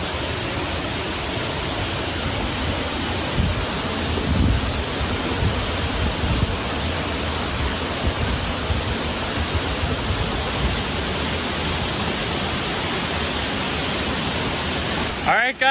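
A waterfall on a hiking trail in Peru roars as a dense, steady broadband rush, close and continuous, with no pauses throughout.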